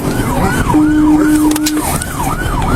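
Police siren wailing in a rising-and-falling pattern during a pursuit of a wrong-way driver, loud and close, with a steady tone and road noise underneath.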